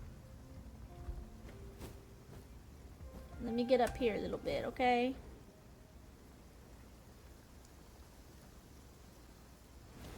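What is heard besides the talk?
rain falling in video game Genshin Impact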